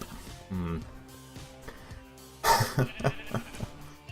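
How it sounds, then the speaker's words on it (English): Pink sheep on a video game server bleat in a few short, wavering cries near the start, with a person talking over much of the clip and other game sounds following. "he has decided to give me a load of pink sheep"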